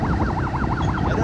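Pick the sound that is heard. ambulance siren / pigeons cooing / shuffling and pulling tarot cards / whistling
ambulance siren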